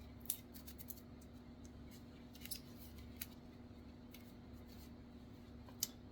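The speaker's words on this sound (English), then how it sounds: "You just cut off a piece that you're going to be using." A JB Weld SteelStik epoxy putty stick is cut with a blade in a quiet room, giving a few faint, sparse clicks and snips over a low hum.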